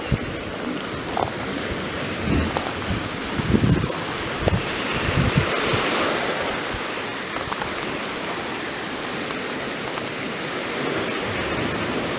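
Steady roar of surf washing in on the shore at Louisbourg, broad and continuous, mixed with wind rumble across the microphone; no voices.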